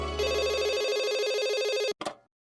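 A telephone rings in a Hindi sitcom scene: a loud, continuous electronic ring lasting nearly two seconds, then a brief second burst that cuts off, with no talking over it.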